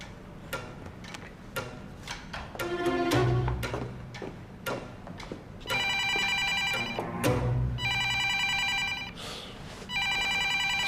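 A telephone rings indoors in a drama scene: a few scattered ticks and soft thumps, then two long bursts of an electronic ringtone pattern, fairly quiet and with no talking.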